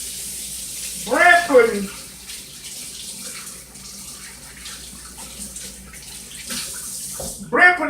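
Running tap water while hands are washed in a home kitchen during bread pudding preparation: a steady, moderate hiss of flowing water throughout, with a person talking briefly over it at the start and end.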